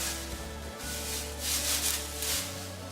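Raffia being handled and spun into a ball, producing a continuous dry rustling and rubbing that swells and fades over a few seconds, close up with no talking.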